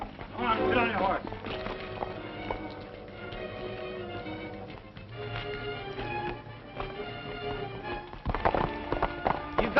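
Horses gallop with rapid hooves over a 1936 western film soundtrack, the pounding steady and mid-distance beneath music and brief talk.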